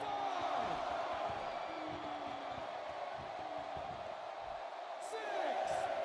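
Arena crowd noise in the WWE 2K16 wrestling video game, a steady roar of many voices rising and swelling near the end, as if chanting a count together, with a few brief sharp thuds and no talk over it.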